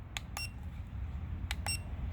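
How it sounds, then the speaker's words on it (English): The remote controller of a Cen Racing Q Series Jimny RC vehicle beeps when switched on: two pairs of short electronic beeps, high and tonal, spaced about a second apart over a low steady hum. "So when you turn it on, it actually beeps."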